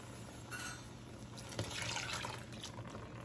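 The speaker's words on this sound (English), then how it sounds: "Now we are going to add our water and our sugar." Water and sugar are poured into a pot during home canning, producing a short liquid fill with splashy trickling, quiet and close, without any talk.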